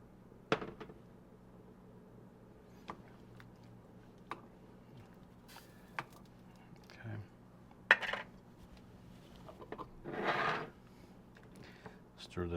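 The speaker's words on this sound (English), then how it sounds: "Stir that all around in there." Utensil stirring baked bean ingredients with maple syrup in a pot, giving sparse scraping clinks and knocks spread across the clip, quiet and close, with a few brief louder scrapes.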